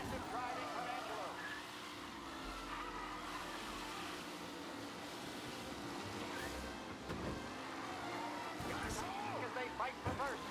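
Race cars roar and skid through aggressive driving in the Mafia PC racing game, engines droning steadily with tire squeals and bursts of revving under continuous commentary.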